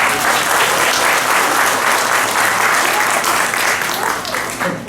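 Audience at a peace gathering marking the armistice anniversary breaks into loud, sustained applause, dense clapping that holds steady for several seconds before starting to fade.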